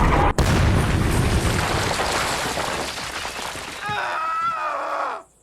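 A sharp cannon shot from US forces during an attack deep inside Iraq, followed by a long rolling rumble and crackling debris that fades into a sustained roar, loud and near.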